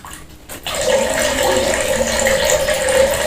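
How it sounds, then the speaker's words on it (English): Water streams steadily out of a small hole in a plastic bottle, a continuous close splashing gush that starts abruptly after a brief quiet moment, with no talking. "water is coming out of the hole."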